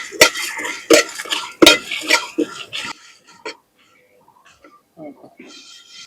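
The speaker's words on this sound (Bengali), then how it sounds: "সবগুলো একসাথে শুকনো কড়াইতে দিয়ে ভালো করে ভেজে নেব।" Whole fennel, coriander and cumin seeds are dry-roasted in an empty wok, with a run of sharp, loud utensil clanks and scrapes against the metal that thin out into quieter, sparse rattles.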